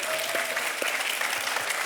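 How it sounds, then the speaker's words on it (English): Audience applause for a panelist at an Australian contemporary dance leadership panel, a steady dense wash of clapping from a crowd, moderately loud and sustained throughout with no talking. "Yes, absolutely give Marilyn Miller a round of applause."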